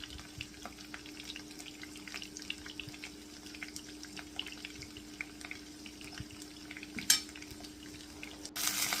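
Chicken breast frying in a pan, a faint, steady sizzle with a low hum and scattered soft clicks, one brief louder clatter near the end.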